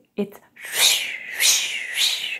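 A voice imitates a sword's whoosh like rushing wind, three long breathy hissing swells following a short spoken syllable, close and moderately loud.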